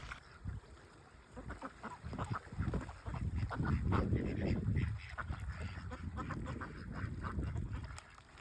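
A family of wild ducks on a river quacking and honking as they approach, with repeated close, fairly faint calls scattered through the clip over water and outdoor ambience.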